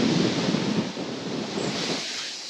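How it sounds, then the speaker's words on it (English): Strong gusting wind buffets the microphone on the Jodojiyama hilltop in Onomichi, Japan, in a loud, continuous roar that eases slightly toward the end. "It's incredibly windy"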